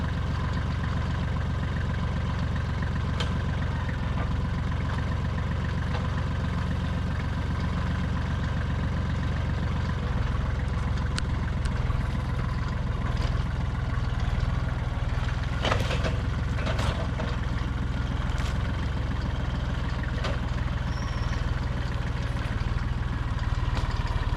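A tractor engine runs steadily at a low rumble while the front end loader moves pine logs, a continuous close drone with faint clanks and knocks over it and no talking.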